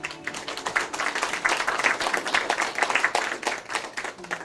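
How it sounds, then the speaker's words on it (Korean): An audience claps after a poem reading at a literary café event, a modest round of distinct, closely spaced hand claps that stays fairly even for several seconds. "박수 부탁드립니다."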